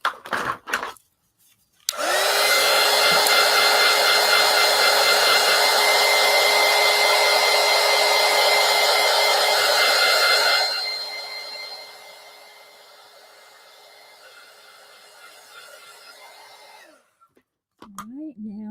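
A hair dryer blows on white acrylic paint, switching on with a loud, steady whine at high power, then dropping to a quieter setting before cutting off, with brief talk at the end.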